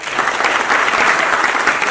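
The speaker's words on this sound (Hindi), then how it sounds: "तो एक बार इनके लिए तालियां" A short, loud burst of audience applause at an education event, dense and continuous clapping from a sizeable crowd, close and steady for the whole moment.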